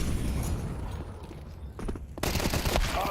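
Rapid M4 rifle fire in Counter-Strike during a professional esports match, loud dense bursts of shots with a short lull before a sharper, heavier volley.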